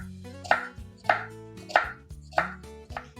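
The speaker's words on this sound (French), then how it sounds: "je viens le découper en deux, mais pareil, sans aller jusqu'au bout" A knife slices through an onion on a cutting board for ceviche, producing four evenly spaced crisp cuts, each ending in a firm tap against the board, close and clear.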